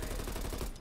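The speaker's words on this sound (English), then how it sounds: "I happen to walk into a crossfire of gunfire there." A brief, dense burst of rapid gunfire in Call of Duty: Cold War rattles continuously for under a second, loud and close.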